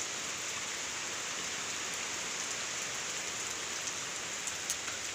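Rain falls during typhoon Goring with a steady, dense hiss of drops striking surfaces. It is continuous and fairly soft, and no voices are heard.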